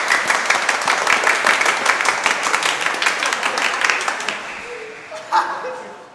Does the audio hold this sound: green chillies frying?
no